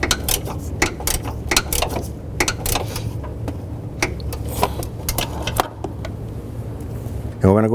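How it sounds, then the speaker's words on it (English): Ratchet wrench tightening a transmission mount bolt on a 2007-2011 Honda Civic, a steady run of rapid clicking strokes close by with a brief louder clatter at the end. "we'll have to get our ratchet wrench in there to tighten that one up"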